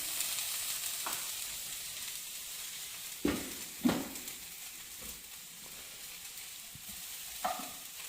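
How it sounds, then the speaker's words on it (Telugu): Onions and broccoli fry in a pan for broccoli curry, a steady high sizzle with a few sharp scrapes and clinks of a spatula against the pan, no talking. "ఇప్పుడు అది ఫ్రై అవుతుంది, ఇటు ఉల్లిపాయలు కుక్ అవుతూ ఉంటుంది కదండి"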